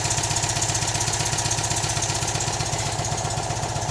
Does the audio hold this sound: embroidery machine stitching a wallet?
no